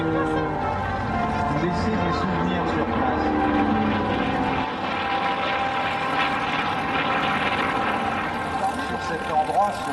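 A steady propeller aircraft engine drones loudly throughout at the La Ferté-Alais air show in France, with a person talking over it.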